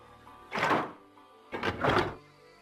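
A heavy furnace door with a wheel at its centre is twisted open in a video game, giving two loud, close metallic grinding thunks about a second apart, each swelling and fading, with quiet between them.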